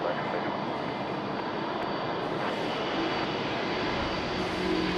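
A Cathay Pacific jet roars loudly overhead at Sydney Airport, its broad engine rumble steady and close throughout, with a voice faintly underneath.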